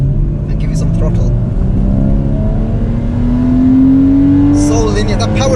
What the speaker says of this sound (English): it throws that little bark when you downshift and give you some throttle